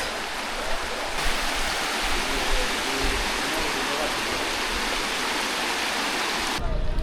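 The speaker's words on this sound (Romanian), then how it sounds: "auzi cum curge pârâul" A forest stream near Emerald Pool in Krabi, Thailand, flows with a steady, even rush of water that stays constant throughout, close by and fairly loud.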